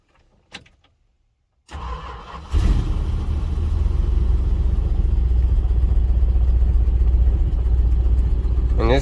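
A 1967 Plymouth Fury big-block engine cranks and catches, then settles into a loud, steady rumbling idle that runs continuously after a brief click and whir.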